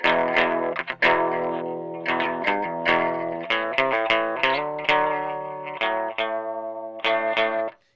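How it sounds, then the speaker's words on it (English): Clean, lo-fi electric guitar notes and chords played through an effects pedal without drive, ringing out in a steady phrase with slight chorus shimmer. "A lo-fi kind of sound. That's with the drive all the way off."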